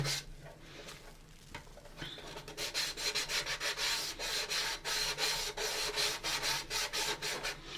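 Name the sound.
sanding plastic Enterprise model kit with sandpaper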